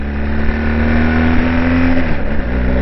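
Engine of a BMW R1250 GS Adventure HP Rallye motorcycle, a steady, close, fairly loud droning hum with a lumpy, tractor-like throb that rises slightly in pitch before settling, heard alone without talk.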